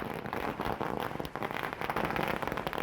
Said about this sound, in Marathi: भाजपच्या कार्यकर्त्यांकडून शहरातील मालेगाव सटाणा रोडवर फटाक्यांची आतिषबाजी करण्यात आली आहे।